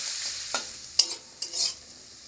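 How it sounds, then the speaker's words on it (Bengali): Potatoes fry in mustard oil in a kadai with a bright, hissing sizzle, punctuated by several clacking stirs of a spatula against the pan. "কড়াইতে যতটুকু তেল আছে তার মধ্যে আলুগুলোকে দিয়েও 2 মিনিট মতো ভেজে নেব"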